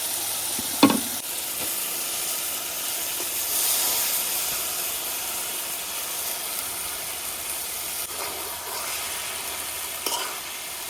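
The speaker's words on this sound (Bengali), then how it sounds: "শুটকিটা খুব ভালো করে কষানো হয়ে গেছে, এই যে একদম তেল ছেড়ে দিচ্ছে উপরে থেকে।" Dried fish (shutki) sautés in oil with potatoes and greens, a steady hissing sizzle throughout, marked by a sharp utensil clack early and light scraping stirs later.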